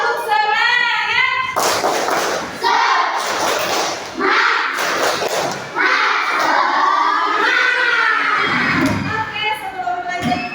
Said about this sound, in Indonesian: Coba kita tepuk semangat dulu yuk, biar semangat.